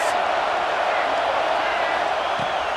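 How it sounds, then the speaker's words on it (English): Stadium crowd in the College Football 26 video game roaring steadily at loud volume throughout, a dense continuous wash of cheering and noise rising for a late defensive stand. "this crowd is coming to help the defense"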